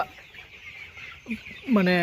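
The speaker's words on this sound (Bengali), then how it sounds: "আমি মুরগিগুলো দেখাই, আপনারা মুরগি দেখলে বুঝতে পারবেন" Forty-day-old Sonali super hybrid chickens on a farm cluck nearby, a few short calls breaking over low barn noise before a louder, drawn-out cluck near the end.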